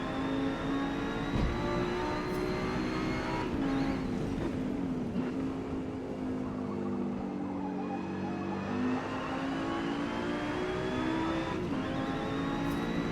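Audi Quattro GTO race car engine in a Forza endurance race, a loud continuous drone with rising and falling pitch as it revs through gears, steady throughout with no talk.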